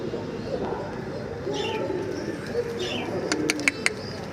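Swallow pigeons coo softly up close in a series of low, rounded calls, joined near the end by a few sharp clicks or taps, with faint speech beneath.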